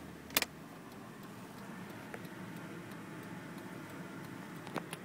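Hazard lights on a 1989 Mercedes-Benz 300SE click faintly inside the cabin, soft evenly spaced ticks over a quiet idling hum, with one sharper clunk near the start.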